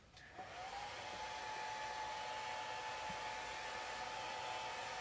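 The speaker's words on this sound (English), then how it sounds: "from my past usage of the hairdryer on stream, it has not been super loud" A hair dryer runs steadily on paint to dry it, a continuous even whoosh with a thin high whine that starts softly and quickly rises to full strength, heard alone at a fairly quiet level.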